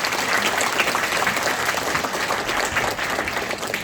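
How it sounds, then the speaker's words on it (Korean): Audience applause at a church seminar on heresy, a steady, dense wash of clapping from a full room that carries evenly throughout. "큰 박수 부탁드립니다."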